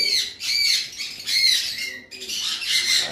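Two green Fischer's lovebirds squawk in shrill, repeated bursts, close and fairly loud, with brief pauses between calls.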